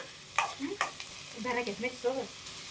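Onion samosa filling frying in a pan, with a few close spatula scrapes and stirring knocks over a soft, brief sizzle.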